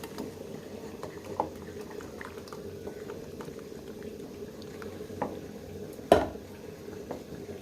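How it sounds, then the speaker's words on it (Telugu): Ragi mixture being stirred into boiling water in a pot, a continuous low bubbling simmer with occasional soft pops and one sharper clink of a spoon against the pot. "తర్వాత ఈ కలిపి పెట్టుకున్నది పోసుకొని చక్కగా ఇలా కలుపుతూ ఉండాలి."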